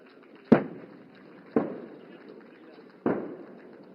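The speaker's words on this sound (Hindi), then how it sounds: "ये गन्स अपने डायरेक्ट फायर द्वारा टारगेट ग्रुप 7 पर दुश्मन के टैंक्स को बर्बाद करेंगी" Three sharp artillery booms from guns firing direct fire at targets during the Bharat Shakti exercise at Pokhran, Rajasthan, each a distant, abrupt crack with a rumbling decay, spaced about a second and a half apart.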